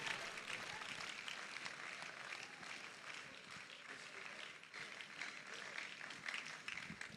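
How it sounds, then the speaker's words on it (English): An auditorium audience at a university inaugural lecture applauds steadily throughout, a dense sustained clapping from a large crowd. "Keep clapping for him until he takes his seat."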